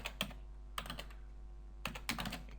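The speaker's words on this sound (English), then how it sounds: "Then we type in the username of the other person" Someone types a chat username on a computer keyboard in a few short bursts of quiet, close keystrokes separated by pauses.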